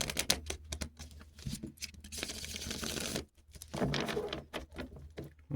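Tarot cards are riffled and shuffled by hand in quick rattling bursts, close and fairly quiet, with a brief pause midway before more shuffling.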